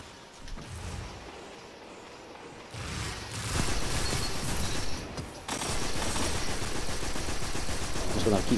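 Braytech Werewolf auto rifle firing in Destiny 2: quiet game ambience, then sustained loud automatic fire for several seconds, briefly interrupted before resuming at a steady close rate.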